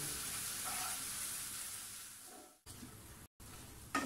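Grated coconut is dry-frying in a pan over low heat without water, giving a steady, fairly quiet sizzle broken by a few short gaps.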